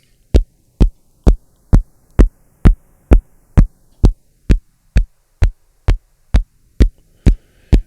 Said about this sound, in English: this is what you do with ZNotch or ZNotch2. Is your phase shifter style effect.